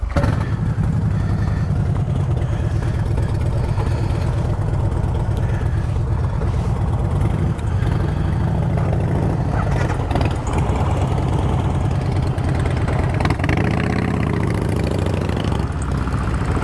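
A Harley-Davidson motorcycle engine rumbles at idle before riding off, a loud, continuous low-pitched throb close by that stays steady throughout.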